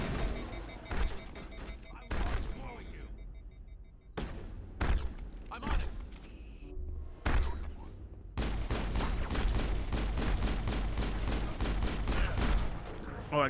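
Gunfire in Mass Effect on PC: bursts of shots, then a long rapid stream of automatic fire in the latter half, loud and close, with someone talking over parts of it.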